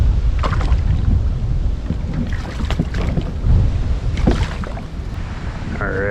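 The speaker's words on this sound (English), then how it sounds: "That wind is still going nuts." Strong wind buffets a small fishing boat on open water while anglers handle a freshly landed smallmouth bass, a steady loud rush of gusts and hull noise with a few knocks and splashes throughout.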